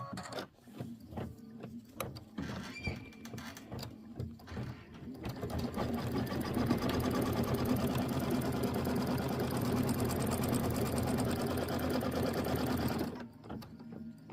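A sewing and embroidery machine stitching the tack-down on a quilt block, starting with uneven chugging bursts, then running as a loud, steady, rapid whir for several seconds before stopping abruptly.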